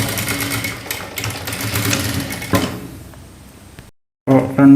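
A domestic sewing machine stitching the shoulder seam of a blouse, running steadily for several seconds, briefly stopping into silence, then restarting loudly near the end.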